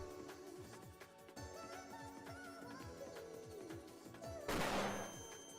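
A flashbang sound effect plays back from a downloaded MP3. It comes as a layered, rumbling stretch of booming pops that builds up and ends in a sharp, bright burst, all fairly faint.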